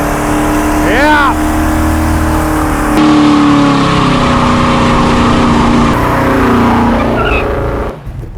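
A 600 hp low-buck big block V8 in a C10 Squarebody truck revs loudly and continuously, the pitch sweeping up and down through several throttle blips, with people cheering and talking over it.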